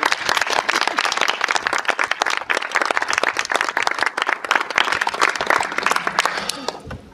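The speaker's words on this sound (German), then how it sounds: "Nochmal Applaus für Emily," An audience at a village event in Freilingen breaks into sustained applause, many hands clapping in a dense, fairly close patter that tapers off near the end.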